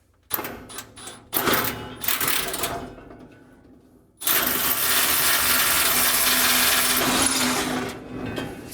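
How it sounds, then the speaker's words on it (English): An SDS hammer drill grinds loudly into concrete in a short burst, then a long continuous run after a pause, close and harsh. "So this is a SDS concrete drill, if you will."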